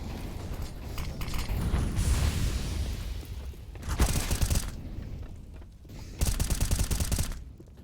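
AK rifle fire in a Counter-Strike esports match on the Nuke map comes as two sprayed bursts of rapid shots over busy game ambience, fairly close and without clear talk.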